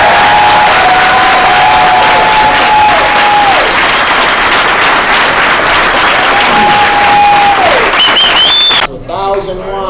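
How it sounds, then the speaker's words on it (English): Loud, sustained audience applause with cheering and whistles fills a business team meeting, a dense steady roar with bright whistle tones, with voices calling out in the crowd before it drops off near the end. "Can you please give them a big round of applause?"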